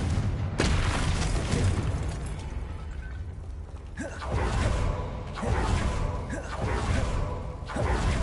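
The Confringo blast spell fires in the Hogwarts Legacy video game, producing several booming bursts with whooshes and mechanical creaks over a dense layer of game sound effects.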